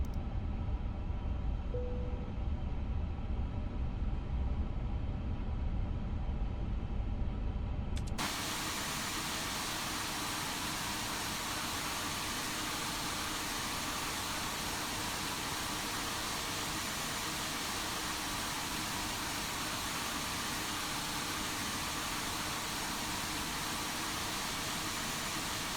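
Airbus A350-900 engines run steadily in a flight simulator, a loud, constant broadband roar that stays uniform after an abrupt rise, with no talk over it.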